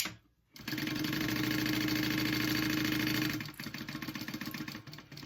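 A sewing machine stitches a canvas tote bag, starting after a brief silence and then running in a fast, steady mechanical whir that slows into a looser pulsing rhythm near the end, close and with nobody talking.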